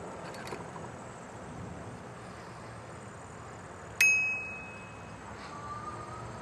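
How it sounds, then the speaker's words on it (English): A single bright bell ding rings out once during a ride and decays over about a second, set against a quiet steady background of road and wind noise. "Give the bell a workout."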